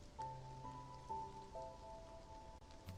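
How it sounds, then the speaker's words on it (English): Soft steady rain patters outside a pavilion in a video game, a faint continuous hiss beneath gentle sustained musical tones. "Rain pitter-patters outside Baiko Pavilion."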